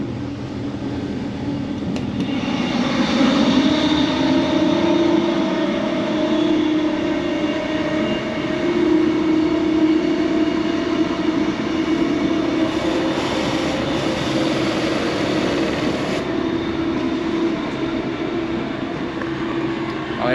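Steady low rumble of the Caledonian Sleeper train from London to Glasgow running along the line, heard from inside the club car, with constant rolling noise and faint rattles.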